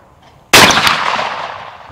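A single loud shotgun blast fired at a skeet target at an Australian gun club, a sharp close crack with a ringing decay, preceded by quiet ambience.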